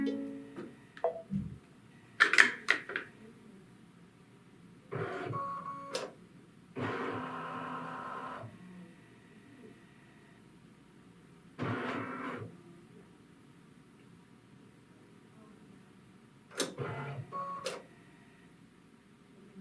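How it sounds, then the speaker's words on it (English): A Baby Lock Solaris Vision embroidery machine runs its camera scan with short separated bursts of mechanical whirring, beeping and clicking. Quiet pauses fall between the bursts. The whole sound is close and fairly faint. "the machine is going to use its camera to scan for my positioning sticker and adjust the name"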